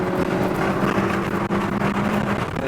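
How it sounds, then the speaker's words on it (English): A 2022 Hyundai Elantra N runs hard on a track with its dual-clutch gearbox shifting on its own. A loud, steady engine drone fills the clip, broken by one brief dip near the middle. "I'm just letting the DSC dual clutch gear, or DSG I should say, dual clutch gearbox shift for itself"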